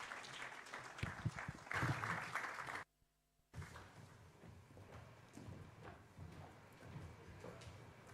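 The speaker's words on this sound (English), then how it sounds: "A round applause for the speakers in this session." Audience applause after speakers at a surgical exhibition session, a loud burst of clapping that cuts off briefly, then resumes as a softer, steady patter of clapping across the room.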